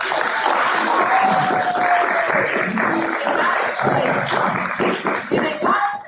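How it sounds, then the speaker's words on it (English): Audience applause for two performers at an arts showcase, steady broadband clapping filling the whole stretch with a crowd murmur and a brief tonal whistle-like line mixed in, loud and sustained throughout. "Can we please give a big round of applause?"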